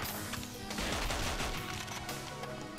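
Rapid-firing guns in 007 Nightfire crackle in a dense, continuous barrage of overlapping automatic shots, loud and unbroken for the whole stretch.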